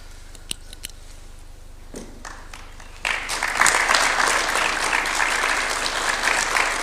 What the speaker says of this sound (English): A louder clap than that. I think it's worth a good clap.